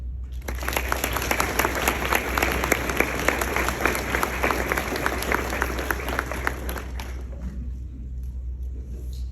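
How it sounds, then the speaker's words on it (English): A conference audience applauds speakers after a lunchtime talk: dense, continuous clapping for about seven seconds that then quickly dies away, over a low steady hum. "Let's give them another round of applause."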